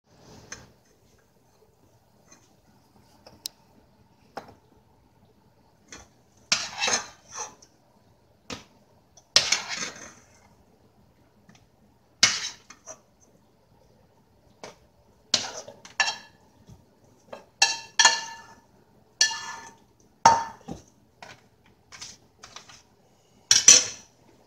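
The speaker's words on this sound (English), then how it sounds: "Half a cup of brown rice in each bowl." Bowls and utensils clinking while brown rice is portioned out for meal prep in a home kitchen, a series of close, sharp ceramic and metal taps and scrapes coming in irregular clusters with quiet pauses between.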